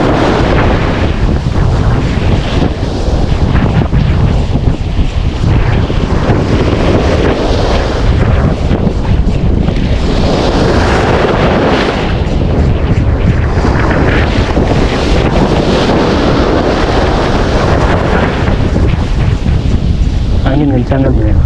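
Strong wind buffets the microphone with a loud, constant roar for the whole stretch, beside water while fishing, and a voice is partly buried under it.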